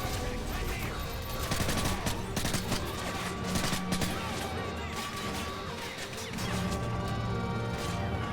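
A frag grenade blast in the Call of Duty Modern Warfare 3 video game, buried in a dense, continuous wash of battle noise and gunfire that stays loud throughout, with a voice faintly mixed in.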